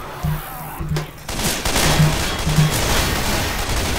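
Gunfire in the zombie shooter Left 4 Dead 2 starts with a few sharp shots and swells into a loud, sustained fusillade of overlapping weapons that fills the rest of the moment.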